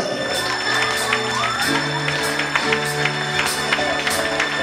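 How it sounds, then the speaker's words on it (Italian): An audience claps and cheers to welcome a girl from Albania at a comedy show, with dense applause, whoops and shouting children filling the whole stretch and a few voices calling out above it. "Applauso!"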